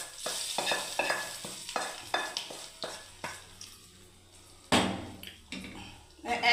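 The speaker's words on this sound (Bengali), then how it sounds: "এবারে দেখুন দেখুন বন্ধুরা ফোড়ন দিয়ে দিচ্ছি এবারে" Spices crackle and sizzle in hot oil for semolina upma, with repeated stirring scrapes in an uneven rhythm and a louder burst of frying near the end.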